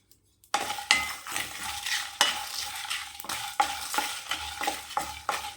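Poppy seeds and kalpasi dry-roast in a pan, a soft steady sizzle broken by repeated sharp scrapes and taps of a spoon stirring against the metal, close and alone with no talking.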